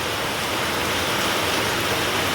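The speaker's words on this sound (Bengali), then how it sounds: "অনেক বৃষ্টি হচ্ছে।" A downpour pours steadily, a loud, close, broadband wash of rain with no gaps and no voices.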